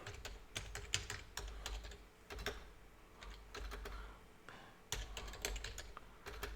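Bursts of typing on a computer keyboard, quick clusters of key clicks separated by short pauses, close and fairly quiet, with no talk.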